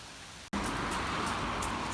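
Sudden heavy rain that begins abruptly after a brief moment of quiet, then continues as a loud, steady, broadband hiss with no pauses.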